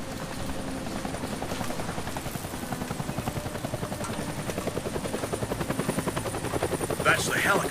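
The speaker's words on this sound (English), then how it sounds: "That's the helicopter chasing my friends." A helicopter's rotor thumps steadily throughout in the video game Deadlight, a rapid rhythmic chopping that grows slightly louder toward the end, with no talking.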